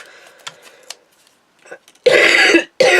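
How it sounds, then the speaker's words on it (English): A person coughs at a craft table, two harsh, loud bursts near the end after quieter rustling and small handling sounds. "Dear, this cough of mine."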